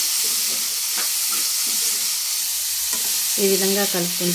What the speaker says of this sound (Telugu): దీంట్లోకి టేస్ట్కి సరిపడా ఉప్పు వేసుకొని ఒకసారి ఈ విధంగా కలుపుకుంటూ